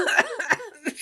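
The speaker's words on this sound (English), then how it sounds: "Excuse me, it made me cough." A single person coughs several times at close range, short harsh bursts with a rough throaty edge, right after a tiring breathing exercise repeated 108 times.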